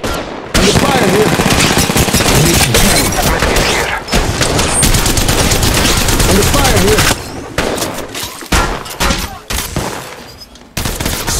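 Loud, dense gunfire from Apex Legends Mobile Fade gameplay: rapid automatic bursts and overlapping shots fill nearly the whole stretch, with a few brief gaps and scattered impacts near the end.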